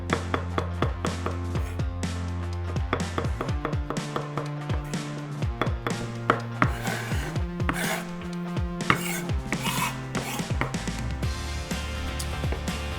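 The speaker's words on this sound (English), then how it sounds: "Just gonna give this a nice chop." A knife chops meatloaf ingredients by hand on a cutting board, with steady rapid taps that stay close and crisp for over ten seconds. Some irregular accented strikes fall among them, and no voice is heard.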